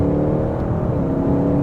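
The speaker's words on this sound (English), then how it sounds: "I want to come down a few gears here so we can see what the power is like in this car." A 2022 Audi RS6 Avant engine pulls hard after a downshift, a loud, deep, steady roar heard from inside the cabin as the car accelerates.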